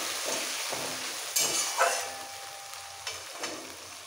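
Water is added to browned fried onions in a pan, giving a hissing sizzle with a few sharp bursts and scraping stirs, close and fairly loud throughout.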